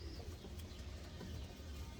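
A racing pigeon cooing faintly at close range, soft low coos over a hissy, noisy background, with no one talking.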